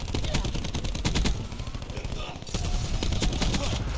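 Rapid automatic gunfire in Black Ops 4 on the Nuketown map, dense repeated bursts of shots that pause briefly and then resume, loud and close, mixed with other game sounds.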